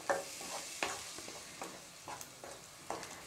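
Tomato paste sautéing in a pan for paneer gravy, a soft steady sizzle broken by a series of spoon stirs and scrapes roughly every half second, close and fairly quiet, with no voices.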